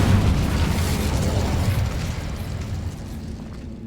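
Incendio fire spell cast in Hogwarts Legacy, a loud roaring, booming burst of flame that swells at the start and slowly fades over several seconds, heard alone.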